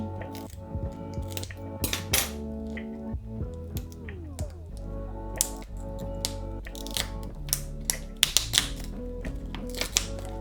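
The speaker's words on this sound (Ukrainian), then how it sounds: "Просто розрізаю ножицями." Scissors snip through a plastic casing mold around cooled homemade boiled sausage, giving a series of sharp crisp clicks and cuts in irregular rhythm, close and fairly loud, with no talk.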